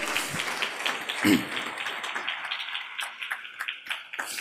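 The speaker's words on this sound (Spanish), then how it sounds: "dele palmas al Señor si gusta hacerlo con todo su corazón" A church congregation at a 2024 marriage retreat claps in praise, scattered hand claps building into a steady stream of fairly close, sharp slaps over a busy room.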